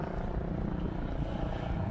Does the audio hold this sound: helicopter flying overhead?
yes